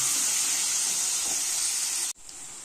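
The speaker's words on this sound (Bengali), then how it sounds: "আলুগুলো এখন এখানে দিয়ে দিলাম। দিয়ে আলুগুলো আমি একটুখানি লাল লাল করে ভেজে তুলে নেব।" Potato pieces frying in hot oil with turmeric give a steady, close, loud hiss and sizzle that cuts off sharply near the end, leaving a quieter hiss behind.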